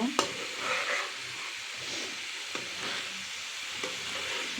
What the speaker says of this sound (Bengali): মশলার সাথে আলু কলা সুন্দর করে আমি নাড়াচাড়া করে কষায় নেব